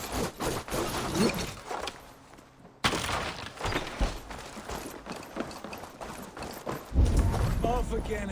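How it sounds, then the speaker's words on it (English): Horses gallop in Assassin's Creed Valhalla, with a rapid clip-clop of hooves mixed with game sounds, while voices talk throughout. "Basim, Eivor, to horse!"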